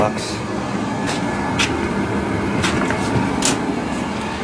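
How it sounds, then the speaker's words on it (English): Loud boiler room machinery keeps up a steady, dense rumble and whir throughout, with a few brief sharp clanks or ticks breaking through the constant drone. "Boiler room's a little loud"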